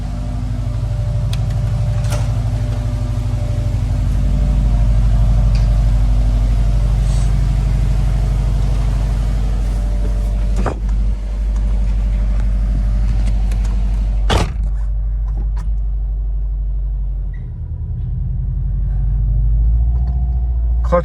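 A station wagon on a test drive after a rebuilt 2013 transaxle was fitted: a steady, loud engine and road rumble heard from inside the car, with one sharp click partway through.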